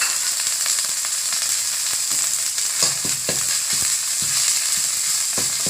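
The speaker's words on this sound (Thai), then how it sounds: "เราใส่น้ำมันร้อนพริกแกง ใส่พริกแกงนะคะ แล้วก็กะปิค่ะ ผัดให้หอมนะคะ" Red curry paste and shrimp paste stir-fry in a little hot oil over low-to-medium heat, a dense steady sizzle up close, punctuated by repeated utensil taps and scrapes against the pan.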